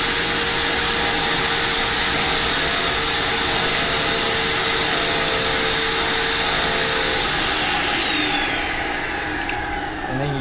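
A Graco Magnum Project Painter Plus paint sprayer runs continuously while priming, giving a steady loud motor whine and hum that holds level before easing slightly near the end; no talking.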